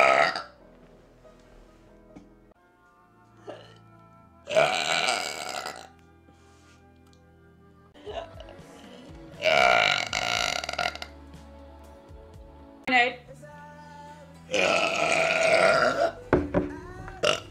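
A string of loud, drawn-out burps comes one after another with short quiet gaps between them, each belch rough and throaty, close to the microphone, with no talking over them.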